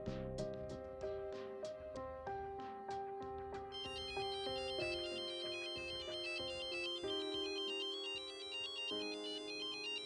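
Melodic telephone ringtone playing a repeating tune, bright chiming notes and tinkling high tones, steady and clear for the whole stretch with no talk.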